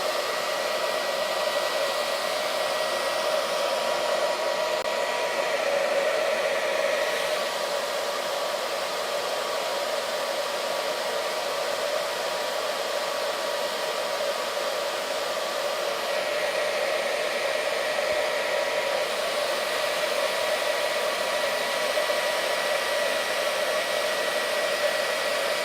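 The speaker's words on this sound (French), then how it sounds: "je vais faire sécher toute cette partie" Hair dryer blowing to dry paint, a steady continuous whooshing roar at even loudness throughout, with slight shifts in tone as it moves, no voices.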